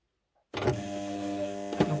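A serger sewing machine starts up through several layers of fabric after a short silence, its motor humming at a steady whirring pitch close by, with a slight surge near the end and no talk.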